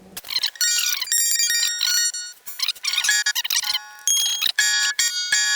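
Bright, ringing notes and chords from a Harley Benton SC II electric guitar played in quick bursts with short pauses, close and fairly loud.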